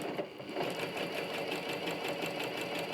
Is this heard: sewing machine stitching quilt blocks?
yes